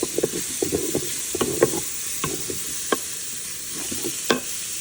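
Water hits a sausage-coated Instant Pot insert, giving a bright, steady hiss while a spoon scrapes and taps the bottom in quick, uneven strokes, close and fairly loud.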